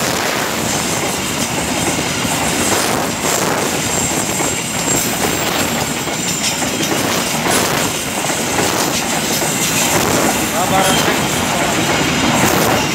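An empty coal freight train speeds past on rails, a loud, close, continuous roar with rhythmic clickety-clack of wheels over joints and faint squeals, filling the whole stretch.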